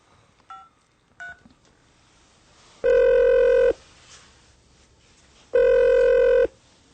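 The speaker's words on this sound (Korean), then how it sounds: "한 권의 책을 다 읽은 난 아버지에게 전화를 걸었다." Two long electronic telephone ring bursts sound alone and fairly loud, each about a second long with a gap between, after a few faint short tones at the start.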